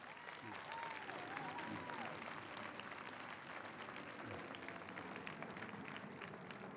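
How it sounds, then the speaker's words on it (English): Applause for the College of Liberal Arts and Sciences faculty at an outdoor stadium convocation, a broad crowd clapping steadily at a distance, with faint voices mixed in. "round of applause for the faculty of the College of Liberal Arts and Sciences"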